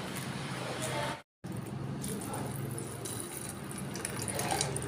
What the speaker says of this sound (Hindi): हम ज़्यादा पानी इसमें नहीं ऐड करेंगे, बस उतने पानी ऐड करेंगे जितने में बॉयल हो सके अच्छे से।